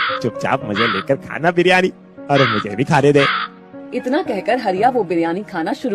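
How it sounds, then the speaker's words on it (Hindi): A crow-like caw, supposedly produced by a man's burp, sounds in brief bursts among continuous Hindi narration and dialogue, close and fairly loud. "अरे कौवे की तरह काय काय क्यों कर रहा है?"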